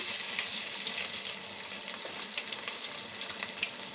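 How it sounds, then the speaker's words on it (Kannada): Crushed garlic frying in a pan for a Mangalore-style raw banana sukka, a continuous close hiss and sizzle with no voices. "ಈ ಜಜ್ಜಿದ ಬೆಳ್ಳುಳ್ಳಿನ ಇದಕ್ಕೆ ಹಾಕೊಳ್ಳೋಣ"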